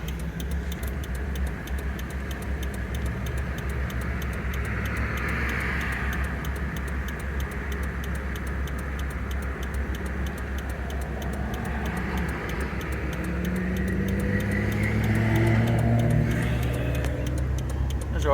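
A 1994 Toyota 4Runner fitted with a Mercedes turbo diesel engine idles with a steady, unbroken low rumble that holds for the whole stretch, with a soft background wash and no spoken words.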